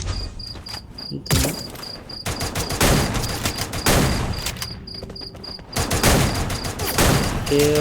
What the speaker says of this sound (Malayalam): ഓന് പടക്കം വെച്ച് ഹെഡ് ഷോട്ട് അടിച്ചിട്ടുണ്ട്